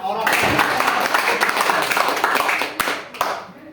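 An audience applauds loudly for someone's honoured parents at a gathering, dense clapping filling the space and thinning toward the end, with voices mixed in.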